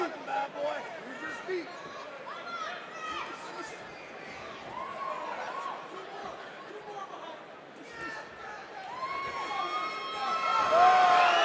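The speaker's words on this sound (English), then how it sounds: "Nice counters again by Brett Beaton, and a reaction from the crowd" Crowd at a boxing match between Brett Beaton and Javon Blackstock murmuring and reacting to counterpunches, a steady chatter of many voices that swells toward the end with a commentator talking over it.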